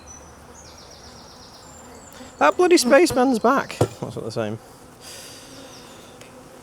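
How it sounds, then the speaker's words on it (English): Honeybees swarm over a hive frame during a beekeeper's inspection of queen cells and new nucs, making a steady, close buzzing drone that runs throughout while someone talks over it. "there's a lot of bees on there"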